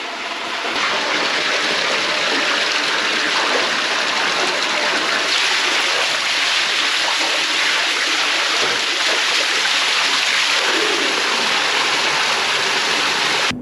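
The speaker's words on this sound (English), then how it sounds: "with the first waterfall" The first waterfall in Willis Creek slot canyon pours with a loud, constant broadband rush of falling and splashing water, heard up close and unbroken throughout.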